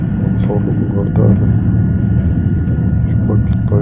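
An airliner's engines drone from inside the cabin while climbing out over Hurghada, a steady low roar with voices and small cabin sounds over it.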